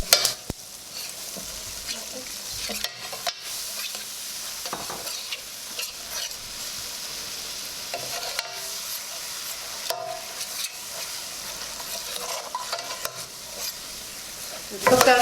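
Curry paste for catfish frying in oil over high heat, a steady close sizzle with occasional stirring scrapes and clinks throughout.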